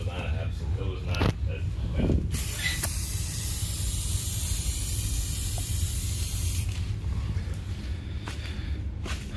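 Spray gun laying a base coat on a Nissan S15 widebody car, a loud steady airy hiss that holds for several seconds mid-clip, with knocks and shuffling before and after it.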